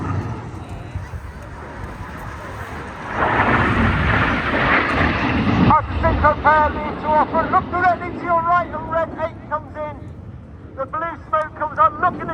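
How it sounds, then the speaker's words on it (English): Red Arrows jet aircraft fly an aerobatic display at the Eastbourne Airshow, a steady engine roar that swells and lingers while a commentator talks over it. "Each aircraft now performing a 4-point hesitation roll"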